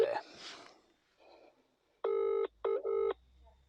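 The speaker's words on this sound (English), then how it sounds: "Let me just ring Johnny Adair." A telephone number is dialed to call someone: a few soft keypad presses, then three loud, clean dial tones in quick succession, with a voice speaking briefly beforehand.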